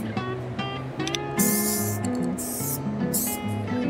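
Short hissing bursts of spray-can etching primer applied to bare metal on a Harley build, several separate sprays over a steady background hum.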